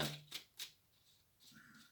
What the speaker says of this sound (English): Shuffled all went nasty, there we go.